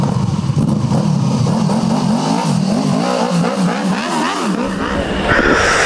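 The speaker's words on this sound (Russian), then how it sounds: "динамические испытания мотоцикла Honda VFR 800" Honda VFR800F motorcycle engine revving hard, a continuous loud mid-pitched roar that rises and falls through several throttle blips, with pitch sweeps climbing near the end.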